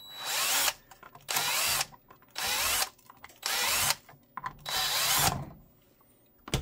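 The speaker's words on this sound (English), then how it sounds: "we'll go ahead and drill these 1/4 inch" Power drill whining through clear plastic, drilling quarter-inch holes for a holster, in five bursts of about a second each, separated by short pauses, close and loud.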